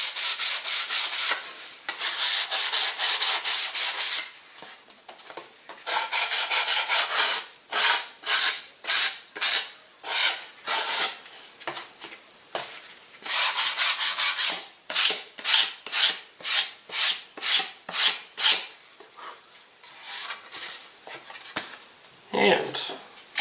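Sandpaper rounds the trailing edge of a wooden glider wing in loud, close rasping strokes, first long sustained passes, then a fast rhythmic run of short back-and-forth rubs, with a brief pause between sets.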